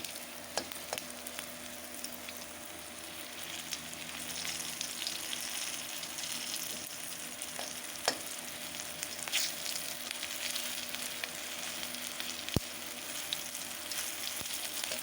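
Panch phoron spices sizzling in a little hot ghee, a soft, even frying hiss with scattered small pops and clicks, fairly quiet and close throughout.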